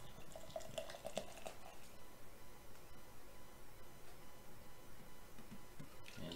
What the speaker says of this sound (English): And so I'll give it a nice pour.